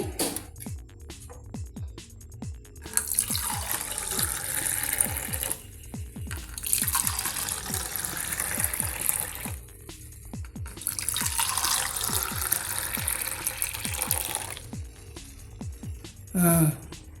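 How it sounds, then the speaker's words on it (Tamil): Freshly ground and strained curry leaf juice poured into a tumbler in a home kitchen, several long splashing pours broken by short pauses, close and fairly loud, with faint background speech. "டம்ளரில் இப்படி ஊற்றி"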